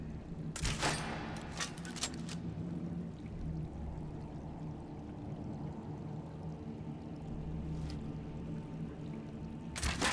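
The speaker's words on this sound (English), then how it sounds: "Just take a few shots at those crates over there." Crossbow bolts fired at crates in Skyrim Dawnguard, a few sharp, separate snaps and thuds near the start and again near the end, set against a low, steady ambient rumble and fairly faint overall.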